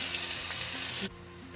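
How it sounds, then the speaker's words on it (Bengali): Tomatoes hit a little hot oil for a chutney, raising a loud hissing sizzle that cuts off abruptly about a second in, leaving a faint low simmer. "তেলটাও গরম হয়ে গেছে টমেটোগুলো এক এক করে দিয়ে দেবো"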